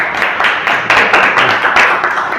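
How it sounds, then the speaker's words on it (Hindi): A classroom audience claps together in a round of applause, a dense, loud, steady patter of many hands with brief swells, no talking over it. "एक बार तालियां बजा दो जरा इसके लिए, बिग राउंड ऑफ अप्लॉज"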